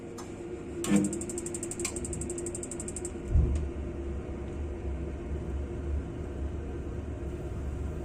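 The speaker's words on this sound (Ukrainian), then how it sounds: "Котел загорівся, котел працює." A home heating boiler starts up: a rapid mechanical ticking and clicking, a soft thump as it ignites, then a steady low hum and whoosh of it running.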